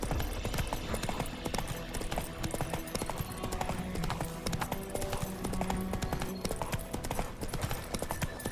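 Hooves of Roach the horse clip-clopping in The Witcher 3 video game, a steady rhythmic trot of many close hoofbeats over ambient game sound and music.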